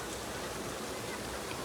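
Heavy summer rain pours steadily in a dense, even hiss, loud and continuous with no gaps, close by outside a home.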